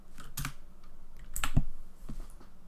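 Keys on a computer keyboard are tapped in a short, uneven burst as a word is typed out, a few distinct close clicks separated by brief pauses, with no voices.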